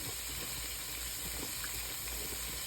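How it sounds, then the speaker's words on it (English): Beef broth poured onto braised beef ribs, a steady close hiss and gush of liquid filling the pan with no talk. "Now we're going to go ahead on and add the beef broth"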